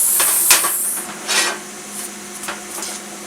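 A Primeweld CT-520D plasma cutter cuts metal with harsh, sputtering bursts of hiss over a steady high whine, the arc rising and fading in irregular surges up close.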